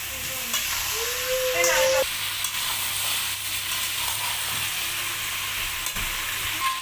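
Chicken meat sizzles steadily in a hot pan with turmeric and salt, a close, constant frying hiss with a few stirring clinks.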